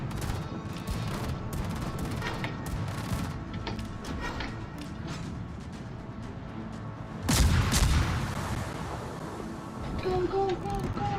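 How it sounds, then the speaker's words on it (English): Anti-aircraft guns firing in World of Warships, a dense continuous rattle of bursts and booms with a louder blast partway through, under game ambience and faint voices. "anti-aircraft fire! Anti-aircraft gun crews are on normal alert."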